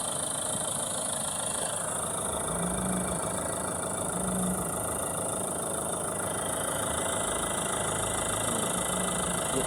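Mahindra Thar ROXX engine idling steadily with no pauses, a loose pipe in the engine bay vibrating and adding a faint rattling buzz over the continuous hum.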